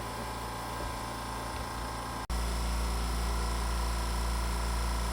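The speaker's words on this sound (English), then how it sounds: "Every time I do something, the compressor's got to start up." An air compressor kicks on abruptly after a brief dropout, then runs with a loud, steady low hum and a constant mechanical drone, with no talking.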